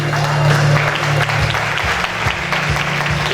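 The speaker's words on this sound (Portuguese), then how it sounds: "Dá uma salva de palmas para ele." A church congregation breaks into applause during a pastor's sermon, a loud, sustained wash of clapping over a low, steady hum.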